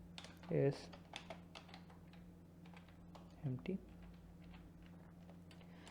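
Rapid close keystrokes come from a computer keyboard as code is typed, steady and light throughout, with brief bursts of a man's speech over the clicking.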